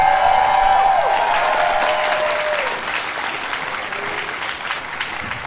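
A crowd at a fursuit dance competition claps loudly and steadily after a routine, with a few whistles near the start and faint cheering mixed in.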